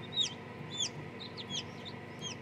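Newly hatched free-range chicks taken from an incubator, peeping in repeated high, thin calls that rise and fall close by, several overlapping over a low steady background hum.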